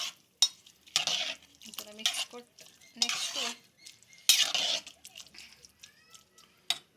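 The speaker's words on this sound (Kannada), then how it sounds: "ಇವಾಗ ಎಲ್ಲ ಇದನ್ನು ಮಿಕ್ಸ್ ಕೊಡಿ" A spoon stirs bisibele bath made from leftover rice in a metal pot, with intermittent scraping and clinking strokes in short bursts separated by brief pauses, close and moderately loud.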